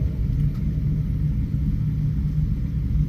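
Turbocharged Gen 3 5.3 drag car held on the trans brake at about 3,400 rpm with 6-7 pounds of boost, giving a steady loud low engine rumble that holds evenly throughout with no voices.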